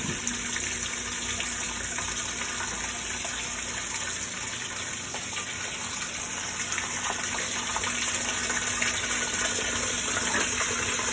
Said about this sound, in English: Oh yeah, we're starting to fill up now.